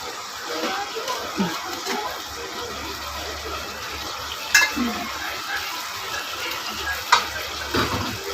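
Leafy greens being stir-fried in a pan over a clay stove, with a steady sizzle, occasional scrapes and clinks of a spatula against the pan, and a voice talking intermittently over the cooking.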